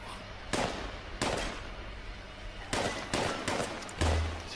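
Gunfire from a weapon in the video game Fallout 76, five punchy bursts at irregular intervals over steady background noise, each with a sharp attack and short tail, the last with a deep low thump.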